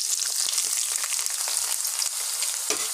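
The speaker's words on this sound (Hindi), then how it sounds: "ऑयल थोड़ा सा गरम हो चुका है, और इसके अंदर मैं डालूंगी ये प्याज जो मैंने कट करा है" Chopped onions sizzle in hot oil for Punjabi-style shahi paneer korma, a bright continuous hiss with a few faint clicks and stirs throughout, no talking.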